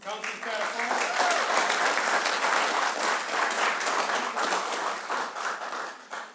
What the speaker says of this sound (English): Round of applause, Councillor Spadafora.